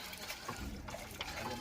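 Water running from a newly installed supply, a soft trickling and splashing stream heard faintly alongside nearby talking.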